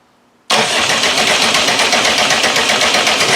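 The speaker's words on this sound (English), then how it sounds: "Anyway, let's have a go, see if it'll start." A naturally aspirated 2.5 diesel engine sitting on a pallet fires up abruptly after a moment of quiet and runs loud and rough, with a rapid, even knocking pulse.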